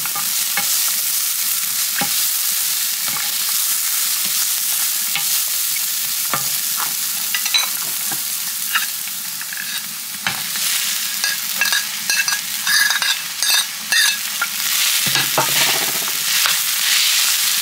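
Garlic rice sizzles loudly in a pan as it is stirred and fried, a dense continuous hiss with repeated scrapes and clacks of a spatula, close up and without talk.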